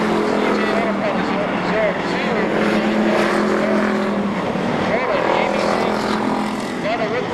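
Race cars roar around Seekonk Speedway at a 1999 weekly racing event, their engines droning loud and continuous as a commentator talks over the noise.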